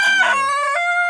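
An Ayam Cemani rooster of the stick-feathered type crows once, close and loud, in a single drawn-out call with a rising start and a long sustained tail.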